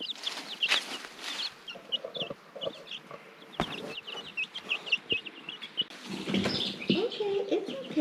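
Baby chicks peeping and hens clucking on a farm after being moved outside to a new coop, with bursts of high cheeping and some scuffling and wing flaps nearby, and a voice briefly talking.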